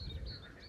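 Frogs croak outdoors, a low throaty chorus close by under faint higher bird chirps in calm open air.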